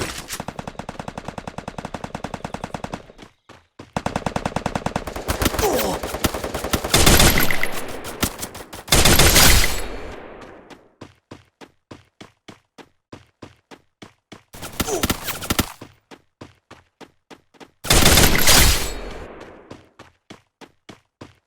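Bursts of video game gunfire from Free Fire played on a Poco M2 phone: loud automatic volleys and clustered shots separated by quiet gaps, with faint rhythmic ticking between bursts and no talking.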